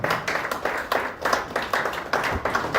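A church conference audience claps in uneven, rhythmic bursts, moderately loud and close, with a faint voice underneath.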